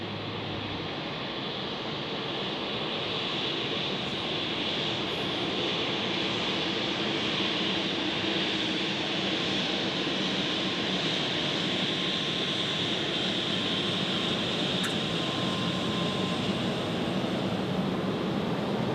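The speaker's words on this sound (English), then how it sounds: "takeoff for Qatar" Qatar Airways Airbus A350 jet taking off at Zurich Airport in fog, a steady, loud broadband engine roar holding for the whole stretch without letting up.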